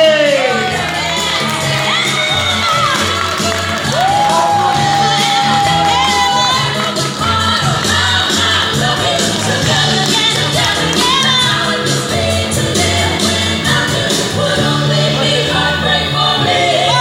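Wedding guests at a cake-cutting reception cheer and shout in a loud, continuous crowd roar, with voices calling out over dense party noise and music.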